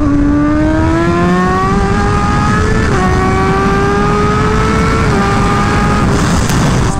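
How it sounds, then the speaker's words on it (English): A Honda Fireblade RRR with an SC Project exhaust roars loudly at close range throughout. The engine note climbs steadily through the gears, with quick shifts about every two seconds and a constant rush of wind. "the one thing about the SC Project's exhaust is that it's, like, crazy loud"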